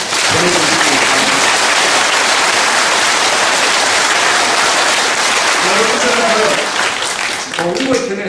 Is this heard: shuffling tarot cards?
no